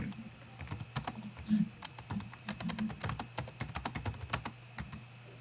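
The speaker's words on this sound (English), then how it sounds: "I was in the middle of typing something at the same time" Rapid typing on a computer keyboard, close and crisp, with uneven clusters of clicking keystrokes and short pauses over a quiet background hum.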